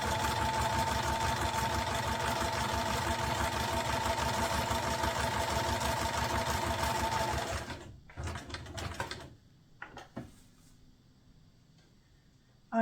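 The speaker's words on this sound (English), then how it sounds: "I've got the needle down position set up on my machine, and I've stopped with the needle down at the corner" A sewing machine stitches ribbon on a card, running steadily and fairly loud for about eight seconds, then stopping at a corner with the needle down, followed by a few faint handling clicks.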